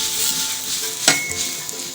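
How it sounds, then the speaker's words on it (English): Pumpkin chapati cooks in a little fat in a hot pan, a steady soft sizzle with one sharp metallic clink midway and a few light scrapes. "then you add in some little fat to cook chapati"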